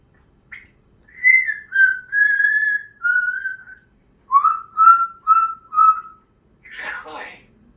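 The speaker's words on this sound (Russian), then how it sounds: "Как папа свистит?" A man whistling a short tune of about nine clear, loud, pitched notes in two phrases with brief pauses, followed by a softer breathy whistle at the end, in a quiet room.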